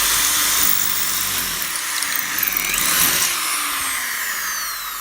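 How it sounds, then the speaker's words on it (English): A power drill runs a drill bit continuously, a loud steady high whine with a dip in pitch as it bites into the material, close and unbroken for the whole stretch. "I'm not running this drill bit all the way through the other side."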